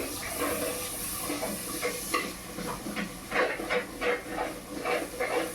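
Fish curry simmering in a Rayalaseema-style clay pot, giving off a steady low bubbling hiss with soft sizzling pops and a faint scrape or stir now and then, heard up close with no voices.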